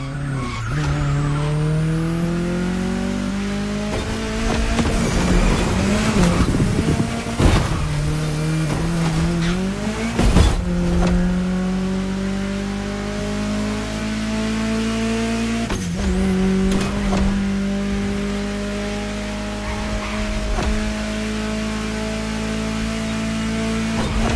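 A car in the racing game The Crew Motorfest drives through a town, its engine droning steadily and rising and falling with repeated revs, gear shifts and occasional tyre squeals across a long, loud run.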